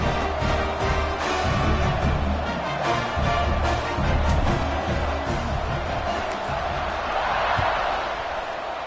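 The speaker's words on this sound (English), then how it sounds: "They're set to kick it off, and this crowd now ready to get behind them." A stadium crowd at a college football game between Missouri and SMU roars continuously as the teams line up for the kickoff, a loud, dense wash of cheering and shouting with no clear pauses.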